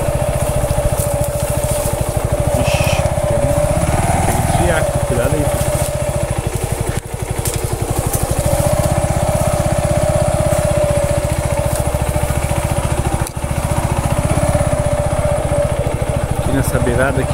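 A motorcycle rides through a rural farm property, its small engine buzzing steadily and loudly up close with a constant rapid pulse and slight shifts in pitch throughout.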